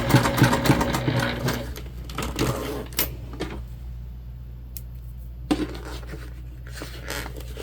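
A sewing machine stitches a large fabric tote bag, whirring in a close, loud burst for about three seconds, then stopping briefly before resuming in short spurts.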